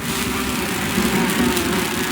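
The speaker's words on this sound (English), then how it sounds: "These bees don't seem too busy." Bees buzz steadily in Grim Fandango Remastered, a dense continuous drone with a low hum and bright hiss, fairly loud and unbroken, with no voices.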